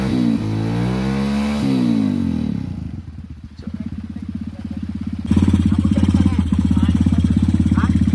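A vehicle engine revs as the accelerator is pressed on a trip to Jaljali Mainpat in Chhattisgarh: a loud rising and falling rev, a rougher dip, then a strong steady drone, close by with possible voices mixed in.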